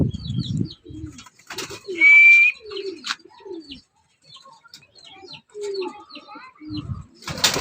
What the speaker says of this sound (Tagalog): Dalawa na mga kalapatids, tama yung hula ko, mga 1 oras.